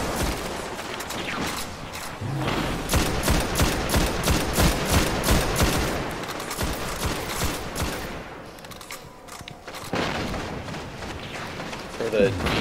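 Rapid gunfire from the video game Destiny, during a hard-mode Vault of Glass Oracles encounter, with bursts of automatic shots crackling steadily under speech and a brief lull near the end.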